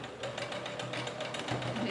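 Short, close burst of a sewing machine running a backstitch on a garment seam, steady mechanical whirring throughout with no pauses.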